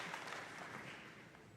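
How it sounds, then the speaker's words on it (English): Faint, steady applause from a commencement ceremony audience at St. Croix Preparatory Academy, a soft wash of distant clapping with no talk over it. "I got to give these funky cats another round of applause real quick."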